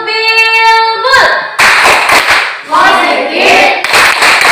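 Schoolchildren in a classroom play the tepuk bilbul integer clapping game, several bursts of loud group clapping in a quick rhythm after a brief sung or chanted voice at the start.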